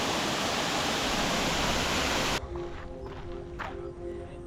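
Temesi Waterfall in Bali sends up a steady, loud broadband roar of falling water that stops abruptly partway through, leaving quieter outdoor ambience.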